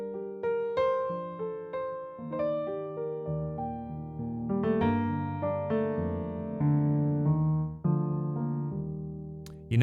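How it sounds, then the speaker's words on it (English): A Gentleman upright piano virtual instrument plays a gentle melodic phrase with chords over about ten seconds, with soft decaying notes in a steady flowing rhythm and no voices. "It's an upright piano that sounds like this."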